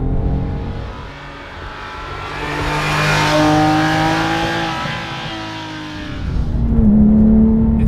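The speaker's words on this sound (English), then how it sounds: "So nice to rev out, and you kind of have to rev it" A 430-horsepower car engine revs hard from close range, its pitch climbing steadily, dipping briefly and then rising again in a loud, sustained roar.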